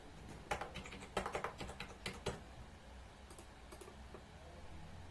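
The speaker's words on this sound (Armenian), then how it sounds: "գրում եք ձեր պարոլը" Keys on a computer keyboard tapped quickly as a password is typed, a burst of sharp clicks in the first half followed by a few scattered taps, close and fairly quiet with no talking.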